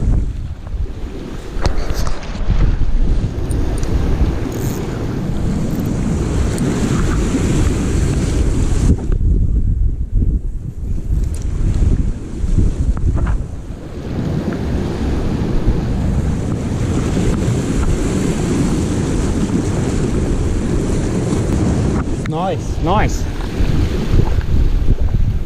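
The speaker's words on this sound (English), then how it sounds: "Lovely bit of swell breaking." Sea swell breaking over coastal reefs with steady surf roar and heavy wind buffeting the microphone; continuous wash rises and falls through the clip, loud and close, with no clear voices.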